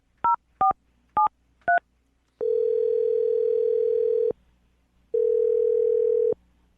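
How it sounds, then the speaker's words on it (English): A telephone number is keyed in: four short, evenly spaced two-tone dial beeps, then two long, steady tones separated by a brief gap, all loud and clear with no talking. "I'll dial this phone number right now, okay?"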